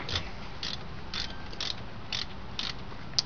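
Ratchet loosening brake caliper bolts on a Pontiac Grand Prix, a run of evenly spaced clicking bursts over a steady background hiss, close and fairly quiet with no talk.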